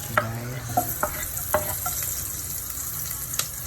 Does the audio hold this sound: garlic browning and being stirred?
yes